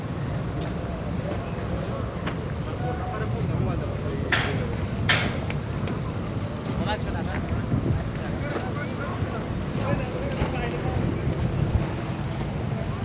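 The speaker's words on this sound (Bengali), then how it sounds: "ট্রলার দিয়ে লোক আসতেছে।" A motor trawler moves along a river, its low engine drone blending with steady wind buffeting the microphone and lapping water, while people talk nearby throughout.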